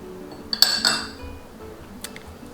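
A few quick, bright clinks of a utensil against a bowl while ground pepper, salt and cayenne are mixed into a rub, close and brief, followed by quiet.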